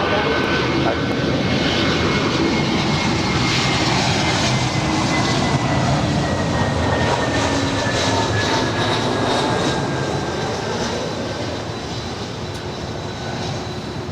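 Air France Boeing 777-200ER jet, 22 years old, roaring continuously at LAX with a broad steady engine rumble and whine that eases slightly toward the end; no voices.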